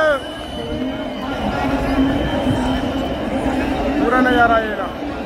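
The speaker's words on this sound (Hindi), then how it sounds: "देख सकते हो गाइस कितना क्राउड है यहाँ पे" Many pilgrims throng Haridwar during a festival of Lord Shiva's devotees, and their steady babble and scattered calls fill the outdoor space at close range. Someone talks over the noise of the crowd.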